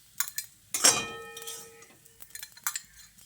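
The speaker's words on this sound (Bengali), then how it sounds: "এবার এটাকে তুলে আমি একটা বাটির মধ্যে রেখে দিচ্ছি" A metal spoon scrapes and clinks against a pan and bowl as ghee-fried rice is lifted into a bowl, with one bright ringing clang followed by softer scrapes and taps, close and alone.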